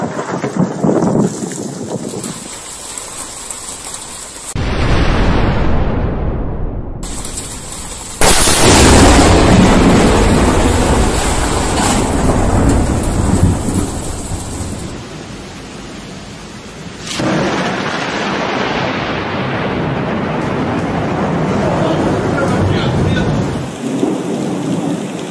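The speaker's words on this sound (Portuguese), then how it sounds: "eu vou colocar uns vídeos aqui de raios" Recorded thunderstorm footage of lightning strikes, with heavy rain and loud cracking thunderclaps followed by long rolling rumbles, several strikes in sequence separated by brief quiet gaps.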